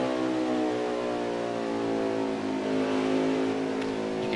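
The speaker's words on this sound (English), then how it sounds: "You can hear the throttle control." Onboard an Xfinity Series stock car racing at Homestead Miami, the engine roars loud and close with a steady harmonic drone, its pitch easing and building as the driver works the throttle.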